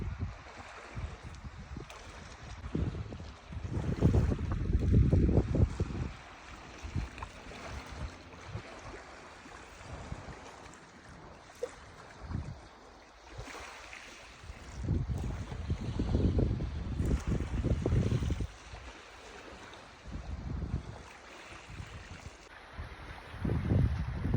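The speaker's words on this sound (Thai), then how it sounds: "นี่นะคะเสียงทะเลนะ" Sea waves surge and wash in slow swells on the coast at Heiligenhafen, Germany, after a storm, with gusty wind buffeting the microphone. The rumbling rises and falls at a moderate distance.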